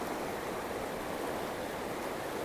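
Fast-flowing water of West Canada Creek rushes past in a steady, even wash of noise, fairly faint and unbroken, with no voices over it.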